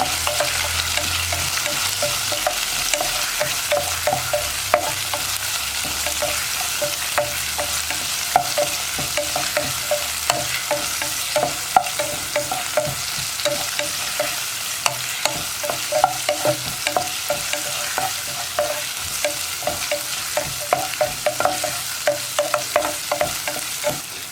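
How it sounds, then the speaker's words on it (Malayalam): Thinly sliced onions for a Kerala kadala curry sauté in a hot pan: a steady close sizzle with frequent scraping stirs of a spoon against the metal, and no voices. "ഇത് രണ്ടും ചേർത്ത് ഒന്ന് വഴറ്റിയെടുക്കുക."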